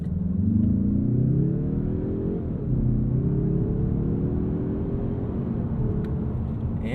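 A 2022 Mazda 3 Hatchback Turbo launches hard from a standstill with traction control off, its engine droning loud and steady as the pitch climbs, briefly dips at a gear change, then rises again through the next gear, with no voices.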